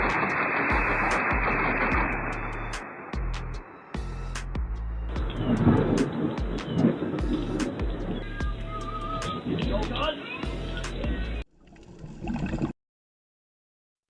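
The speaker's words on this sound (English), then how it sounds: "Lightning struck dangerously close to the car in the driveway" A deep rumble of thunder from a nearby lightning strike swells under steady rain and static-like noise, with a voice talking over it before cutting to silence near the end.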